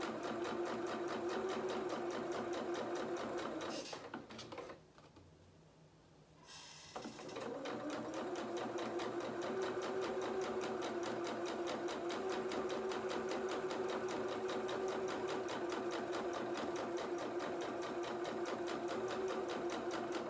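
A sewing machine runs a straight stitch along the hem of a small festive angel dress for a Luna Lapin rabbit doll, whirring steadily and close, with one brief pause partway through before it resumes.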